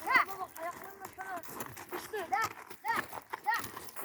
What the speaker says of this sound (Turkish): İbrahim Kayra şu an atı kendisi kullanıyor.